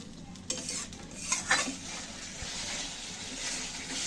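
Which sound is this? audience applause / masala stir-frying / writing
masala stir-frying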